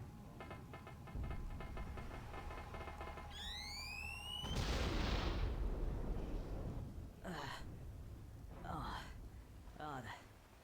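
Tank explosion in Conker's Bad Fur Day: a heavy booming blast bursts in after whooshing, rising synthetic tones, then dies away, followed by short exclaimed voices with gasps and sighs.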